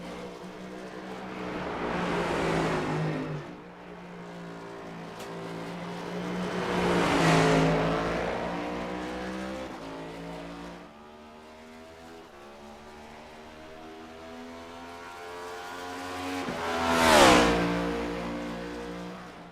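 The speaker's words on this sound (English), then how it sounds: "Definitely hear him downshifting into the back straight away." A race car engine in the iRacing sim at the Charlotte Roval sweeps loudly through three rising and falling passes, revving up and dropping through downshifts as cars rush by, with no talk.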